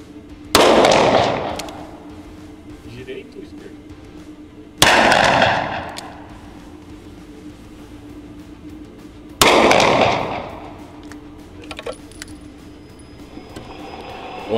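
A 1991 Taurus .38 revolver fires three loud, evenly spaced shots at a target outdoors, each sharp crack followed by a short echoing tail, with quiet background between.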